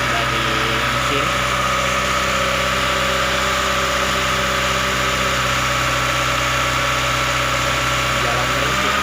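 A motorcycle engine runs continuously and loudly at a steady idle while a catalytic cleaning treatment burns through the exhaust, a constant drone with no pauses.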